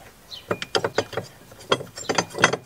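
Metallic ratcheting clicks from a nut being tightened on a battery clamp in a Fiat Ducato van, a quick run of sharp close-up clicks in two bursts with a short pause between.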